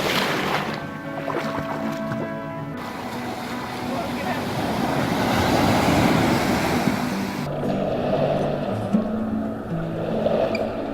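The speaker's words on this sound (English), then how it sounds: "The beach on Raya Island is really nice and it's not very crowded." Waves wash onto the beach at Raya Island near Phuket, Thailand, a broad rolling surge that builds and fades, with boat engine hum and some voices early on.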